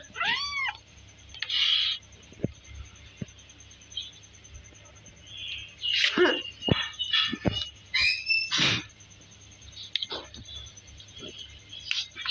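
A cat meows repeatedly in a quiet room, several short high cries spaced out with pauses, close by and fairly clear, with faint rustling between them.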